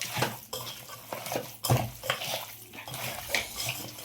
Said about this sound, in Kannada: ಇವಾಗ ಚೆನ್ನಾಗಿ ಮಿಕ್ಸ್ ಮಾಡ್ಕೋಬೇಕು